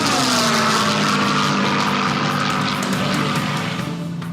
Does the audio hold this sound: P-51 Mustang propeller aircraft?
yes